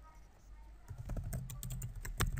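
Quick keystrokes tap on a computer keyboard, starting after a short near-silent pause and continuing as a close, light, uneven burst of typing.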